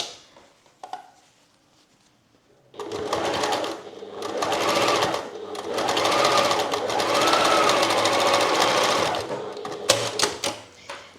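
A Janome sewing machine stitches fabric in a small home workshop, starting after a quiet pause and running in loud, steady mechanical bursts for several seconds before stopping, close to the listener.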